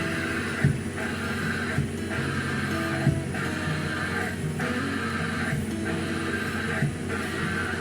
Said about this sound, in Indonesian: ketika pedal dari kopling ini diinjak, terdengar suara yang tidak wajar